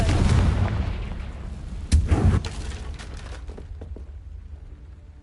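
A Confringo spell explosion in Hogwarts Legacy lands as one sharp, punchy boom after a rumbling lead-in, trailing into several faint crackling pops.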